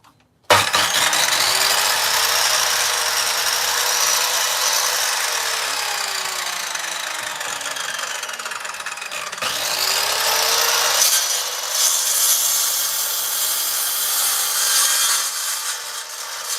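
A power saw cuts through wood in a woodworking shop, a loud continuous whine lasting throughout, with a brief dip in pitch partway through as the blade works the cut.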